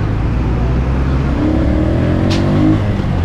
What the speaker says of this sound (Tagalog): Kanina pa dito yung truck na to.